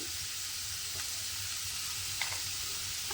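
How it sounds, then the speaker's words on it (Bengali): Cauliflower florets stirred and fried in a pan while home-cooking a Bengali-style dish, a steady close sizzle with soft scraping stirs throughout and no talking. "ফুলকপিটা দিয়ে আমি কিন্তু একটু সময় এইভাবে একটু নেড়ে চেড়ে রান্না করে নিয়েছি"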